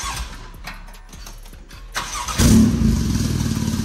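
A 9FF sports car engine cranks with short clicks and rattles, then catches and roars into a loud, steady idle close by.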